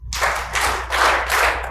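Four distinct claps from the far-left section of a conference audience, evenly spaced bursts of hand-clapping on request, fairly close and clear with no talk.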